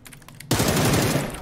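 Sustained automatic gunfire in PUBG erupts abruptly after a quiet half-second, a dense, loud rattle of rapid shots that carries on without pause.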